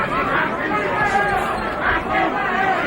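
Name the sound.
boxing crowd booing Tony Tucker's tactics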